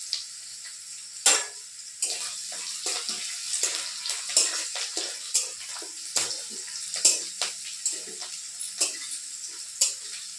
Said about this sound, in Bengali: কড়াইয়ে সামান্য পরিমাণ তেল দিয়ে তাতে লঙ্কা কুচি, আদা কুচি, রসুন কুচি, পেঁয়াজ কুচি এই সমস্ত রকম দিয়ে নিয়ে ভালো করে ভেজে নিলাম